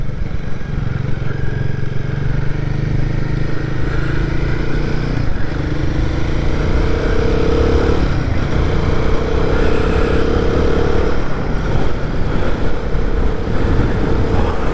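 A Royal Enfield Guerrilla 450 motorcycle ridden along a potholed, gravelly road near a roundabout: a loud, steady engine drone with rising and falling tones as it changes gears, wind rush throughout and no talking.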